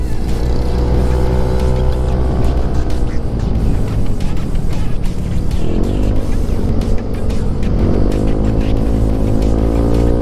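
Heavy traffic streams by as many cars pass close one after another, engines rising and falling in pitch over a constant loud road roar.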